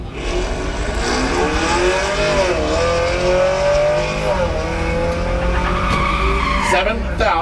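Tesla and Camaro launching side by side off a drag strip starting line, engines and motors wailing with rising harmonic whine, tire chirp, loud and continuous, with a commentator talking over it.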